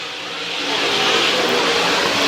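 Race cars roar out of turn 4 at the 50th annual Hillbilly 100 features, a broad, steady engine wash that builds slightly and holds loud throughout with no voices.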